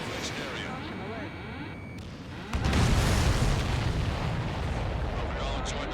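Explosions in the combat flight game Ace Combat 7: a heavy, rumbling boom breaks in halfway through and rolls on as a dense blast roar, following busy cockpit sound and voice chatter.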